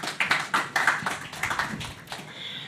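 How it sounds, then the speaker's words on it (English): Scattered hand claps at a DePIN Day tech event in Hong Kong, a dozen or so uneven, fairly close claps from a small group that taper off after about two seconds. "Round of applause to our media partners"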